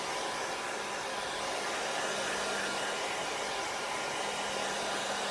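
A hair dryer blows steadily to dry wet chalk paste painted on a vintage truck design, a constant even whoosh with a faint motor hum, uninterrupted for several seconds.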